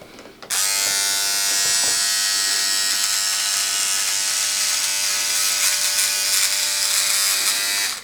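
An electric beard trimmer buzzes steadily and loudly right up close, switching on after a brief pause and running continuously while trimming the top edge of a beard.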